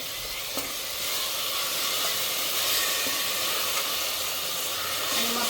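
Tomato paste sizzles in hot oil as it is sautéed for a prawn rice dish, a steady, loud hiss that carries on without a break and has no talk over it.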